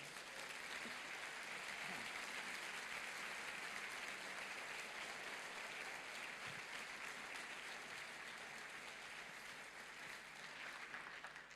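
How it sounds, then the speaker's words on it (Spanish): A church congress audience applauds continuously throughout, a dense, even wash of clapping with no pauses. "Un aplauso a Dios"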